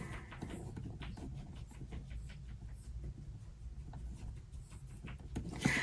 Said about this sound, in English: Let me write it to the side real quick.